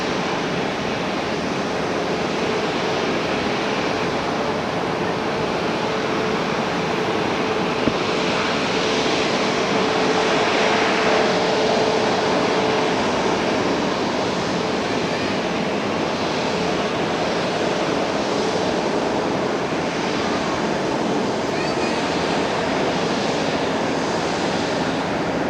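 A jet airliner on a Chicago flight passes at Tokyo Haneda airport, producing a loud, continuous broadband engine rush that stays steady throughout without talk.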